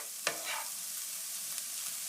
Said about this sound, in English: And as you can see, they're sizzling